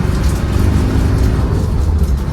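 A 1997 Land Rover Defender 90 with the 300Tdi diesel engine accelerates on the road, a steady loud low engine drone from inside the vehicle with no pauses.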